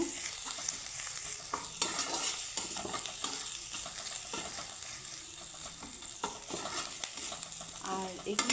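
Grated ginger fries in hot oil while a spoon stirs it, a constant hiss of sizzling under irregular scraping strokes, with faint talk at moments.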